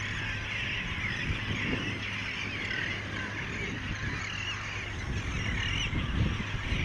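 Honking, goose-like bird calls rise over steady, dense outdoor background noise at a coastal fishing spot where pelicans, seagulls and wrens nest, continuous and fairly close throughout.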